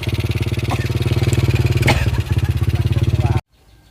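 A Dystar motorcycle engine revs hard and steadily at close range with a rapid pulsing beat, a brief clatter mid-way, then cuts off abruptly into near silence.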